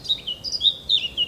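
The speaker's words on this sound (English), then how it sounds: "Nice blackcap singing up there." A blackcap sings high in the trees of Hainault Forest, a run of bright warbling phrases at moderate distance over quiet woodland ambience, with no talking.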